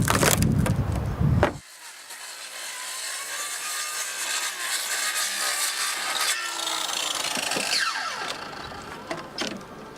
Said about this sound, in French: La vieille volige, constituée de planches de bois, est découpée à la scie circulaire